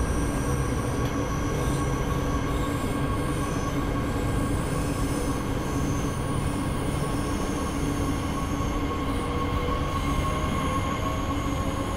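A train rolls on rails in Train Sim World 4 with a continuous loud rumble and rail noise. Thin wheel squeals and tonal whines hold steady throughout, with no voices.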